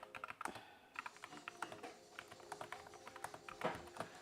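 Quick, light typing on a small Framer Creator Micro keyboard, irregular clicky keystrokes in rapid bursts, close and fairly quiet, with no talking.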